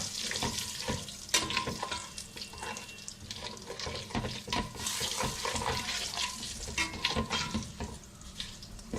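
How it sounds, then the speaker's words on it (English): Whole pulao spices including kasuri methi and fennel stirred in a hot pan of oil, giving a steady crackling sizzle with scraping spoon strokes throughout, fairly close and without talk. "kasuri methi and fennel, and basically the pulao kind of masalas in this one, and give it a stir."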